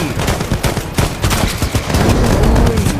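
Rapid bursts of automatic gunfire in the Roblox war game Lion Man, loud and close, stuttering in dense volleys that run almost the whole time, with brief gaps between them.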